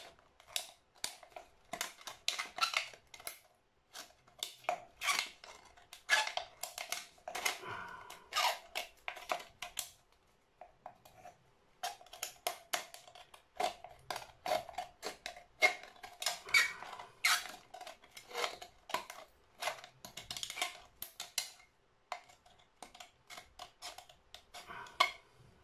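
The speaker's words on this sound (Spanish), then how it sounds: "y retocamos con las tijeras." Scissors snip and trim the cut edge of a tin can being made into an ashtray or candle holder, giving bursts of sharp metallic clicks and scraping cuts with brief pauses, close and fairly quiet, with no talking.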